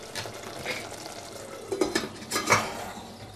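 A spoon scrapes and knocks against a pot as cubed aubergine is stirred into a simmering soy mince curry, giving a few soft metallic clinks and scrapes at close range over a low bubbling hiss, without speech.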